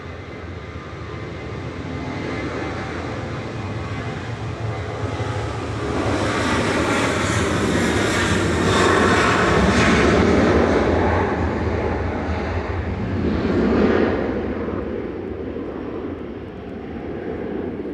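At Manchester Airport an airliner that has lined up on the runway takes off, a broad jet roar that builds, peaks loudly and then recedes with a slight second surge, continuous for the whole stretch and free of speech.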